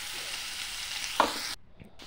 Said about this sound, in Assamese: এতিয়া তেলত পিয়াজ দিলো দি পেলাই মূলা আৰু আলুখিনি ধুনীয়াকৈ ভাজি লম